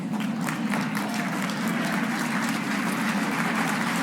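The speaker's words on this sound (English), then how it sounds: "just indulge me a moment and stand up and applaud yourselves and the free press" An audience at a journalism awards ceremony stands and applauds, a continuous dense wash of clapping from a large crowd heard from a distance, steady and moderately loud for the whole stretch.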